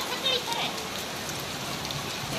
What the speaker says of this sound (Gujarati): શું આવ્યું વરસાદ આવ્યો